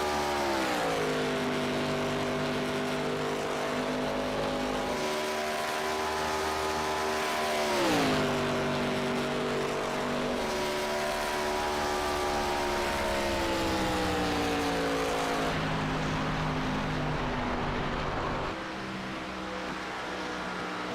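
Race car engines drone steadily in a sim racing ARCA series event at Texas, a loud close tone that climbs and dips as gears shift, holding nearly the whole time before easing slightly near the end.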